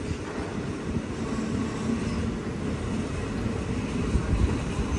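Passenger train pulling into Ezhimala railway station, a steady broadband rumble of wheels and carriages close by, continuous and fairly loud with a slight swell toward the end.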